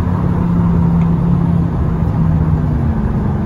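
BMW 645ci engine giving a steady, deep bellowing drone from the cabin, loud and continuous with a low droning tone throughout and no talk over it.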